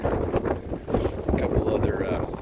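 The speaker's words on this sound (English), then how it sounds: "It's windy, I hope you can hear me" Wind gusts buffet the microphone outdoors in uneven rumbling waves while someone speaks at the trapping site.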